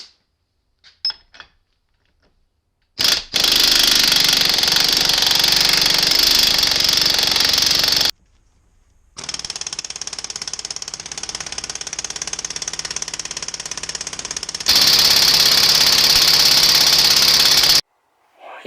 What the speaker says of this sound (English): use the impact gun, see if we can spin it off.